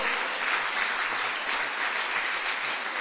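A church congregation claps for the Lord in a sustained, full round of applause, with dense overlapping claps held at an even level throughout.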